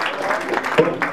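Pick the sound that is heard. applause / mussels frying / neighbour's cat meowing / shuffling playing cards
applause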